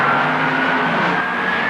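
Drag racing cars launching at the 1979 NHRA Gatornationals, a loud continuous engine roar sustained from start to finish and tapering slightly, heard from a distance through a noisy broadcast.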